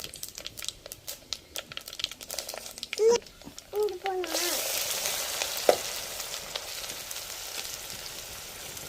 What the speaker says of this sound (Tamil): இதெல்லாம் போட்டு நல்லா பொன்னிறமாக வர மாதிரி வணக்கணும்